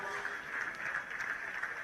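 A crowd cheers and applauds for a finisher at the ICF Canoe Marathon World Championships K1 men's senior race. The sound is a steady, dense wash of cheering and clapping at middle distance, with no break and no single voice standing out.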